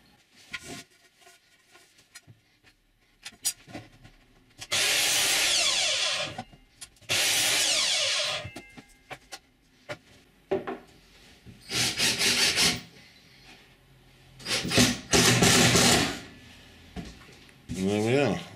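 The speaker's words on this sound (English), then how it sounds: "I'm going to have to chop up a block of wood for that to sit on" A block of wood is cut and shaped with a power tool in several loud, close bursts of rasping, separated by quieter stretches of handling and tapping in a workshop.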